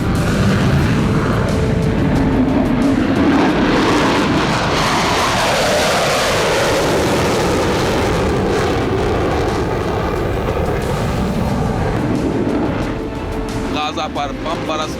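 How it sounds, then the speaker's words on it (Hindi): Israeli fighter jets roar over Gaza in a continuous, loud, dense rumble that swells and holds across the whole stretch, with deep booming undertones. "अब भी इजराइल के लड़ाकू विमान गरज रहे हैं।"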